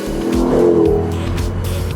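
A cheap Mercedes AMG with a V8 is being driven, its engine a loud, steady low rumble heard from close by, with a brief tire-like squeal rising over it.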